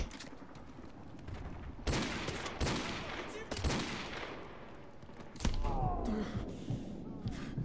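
Call of Duty: Modern Warfare 2 gunfire crackles in bursts of sharp shots, with several heavier blasts standing out over a rattling background of distant fire.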